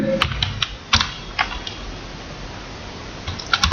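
Clicky keystrokes on a computer keyboard while an inventory entry is typed into Tally Prime accounting software, a few scattered taps at the start and a short burst at the end, close and clear with no talk.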